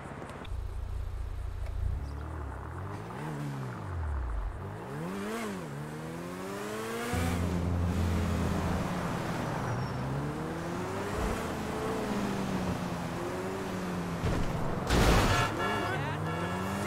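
A car in GTA Online pulls up with its engine rising and falling as it revs and accelerates close by, and a voice talks over the motor for much of the time.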